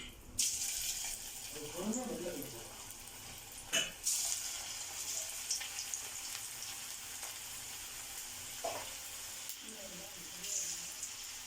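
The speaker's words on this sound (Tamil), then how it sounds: "இப்போ எண்ணெய் நல்லா காஞ்சிருச்சு, இதை பொரிச்சு எடுத்துக்கலாம்." Cabbage pakoda deep frying in hot oil in a kadai, a faint steady sizzle running throughout with a few clinks and someone speaking softly now and then.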